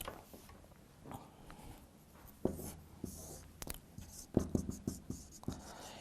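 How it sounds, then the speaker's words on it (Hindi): Examples being written on a board during a biology class on nematode worms, a series of faint scratchy strokes and taps, some sharper knocks near the middle, with soft background noise and little or no voice. "यहाँ पे हम एग्जाम्पल्स लिखेंगे।"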